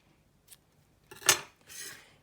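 Scissors trim a length of ribbon while a bow is being made, giving a few quick metallic snips, with one sharper cut followed by a softer rasp, heard close and alone.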